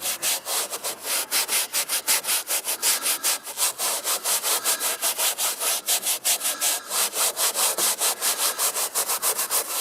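Steady, rapid back-and-forth scrubbing of a small brush on car interior fabric, close up and continuous, with no voices.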